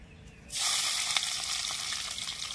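Chopped onion drops into hot oil tempered with cinnamon, clove, cardamom and bay leaf. It bursts into a sudden loud sizzle after a quiet start, and the sizzle holds strong and steady.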